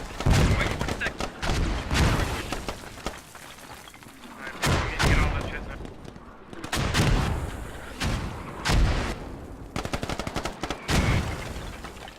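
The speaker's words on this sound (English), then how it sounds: "there goes, that's the mortars" Mortar and artillery fire in a tactical shooter match, heavy booming impacts and gunfire bursts landing in irregular clusters at close to mid distance, with voices talking intermittently over the battle.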